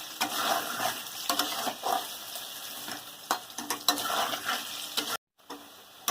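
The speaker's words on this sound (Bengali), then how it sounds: "দিয়ে আর কিছুক্ষণ ভাজলে আমার ভাজা হয়ে যাবে আলুটা।" Potatoes frying in oil with a spoonful of salt added, a steady close sizzle broken by repeated scraping and stirring strokes of a spatula against the pan, with a brief silent gap near the end.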